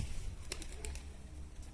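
Pigeons coo softly and low, with a few faint clicks or flutters in a quiet background.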